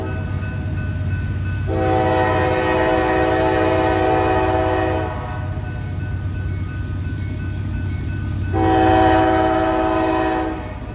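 An intermodal freight train leaving Mormon Yard in Fostoria, Ohio, sounds two long, loud chord horn blasts over a steady rolling rumble of the passing cars, with no talking.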